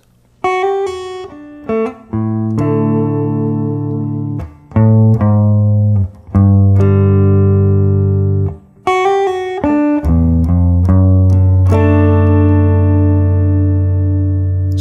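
Bright plucked guitar chords ring out in a progression in D, broken by short pauses, with a connecting bass line moving between them, loud and close, no talking.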